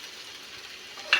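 Bitter gourd pieces fry in hot oil in a home kitchen, a faint steady sizzle that ends with a brief, louder stirring scrape.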